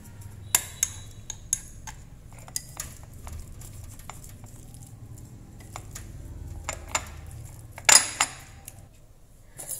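Shrimp and pork are stirred with pepper in a bowl, giving scattered light clinks and taps of a utensil against the dish over a soft background, with one brief louder clatter.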